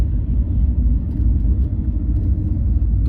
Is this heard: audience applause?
no